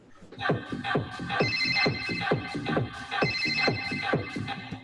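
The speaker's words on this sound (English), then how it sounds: "I think this ringtone's really funny" A comical phone ringtone sample loops in a minimal house track, its bright repeating trill ringing clearly over steady, punchy kick drums with no voices.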